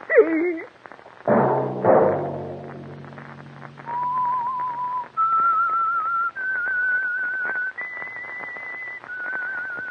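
A run of clear, sustained whistled notes, each held steadily and stepping up in pitch, preceded by a brief burst of voices.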